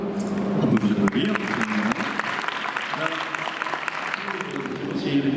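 An audience applauds after a speech at the Salon Créer 2014 business fair, a steady mid-level wash of clapping lasting several seconds while voices carry on over it.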